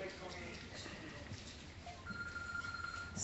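Mobile phone ringing outdoors during the Nivarata festival in Acireale, a steady electronic ring tone rising over crowd chatter and nearby talk in the second half.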